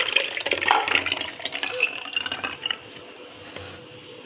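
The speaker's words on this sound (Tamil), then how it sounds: "இது பாருங்கள், மிக்சியில் ஊற்றுறேன்." Thick cooked chikoo ice cream mixture is poured into a mixer jar, a wet, uneven glugging and splatter with small clinks for a few seconds, then tapering to quieter dribbles.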